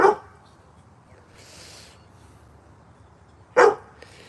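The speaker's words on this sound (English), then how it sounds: "He can hear himself barking through your mom's phone, so that's why he's doing it." A dog barks in two short, sharp bursts, one at the start and another a few seconds later, with quiet room noise in between.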